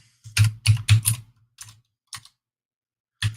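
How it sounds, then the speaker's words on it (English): Someone types in short irregular bursts on a computer keyboard, with a quick cluster of clicks followed by sparse single keystrokes and pauses, heard close and alone. "Me just randomly typing things, hoping to find it."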